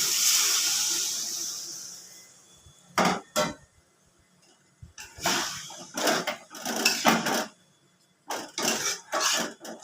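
Water is poured into a pan of egg curry masala, a hissing rush for a couple of seconds, followed by intermittent louder clanks and knocks of utensils against the pot.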